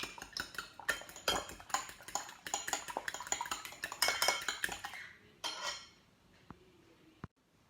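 Utensil whisking an egg omelet mixture in a bowl, with rapid scraping and clinking against the dish for about five seconds, then a few isolated taps and clinks close by.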